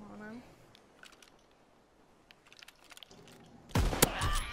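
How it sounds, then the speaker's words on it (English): Gunfire in the World War II shooter Call of Duty WW2, a loud burst of shots arriving near the end after a quieter stretch of sparse game sounds and a brief voice at the start. "I shot my gun like you said"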